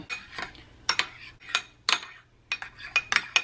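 A metal utensil scrapes and clinks against a bowl while stirring a dip, in quick irregular bursts of sharp taps with short pauses between them.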